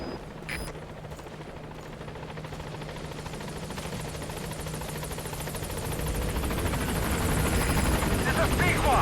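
The Pequod helicopter approaches a landing zone in Metal Gear Solid 5, its rotor thumping in a steady fast chop that swells louder toward the end, with a radio voice speaking over it near the start.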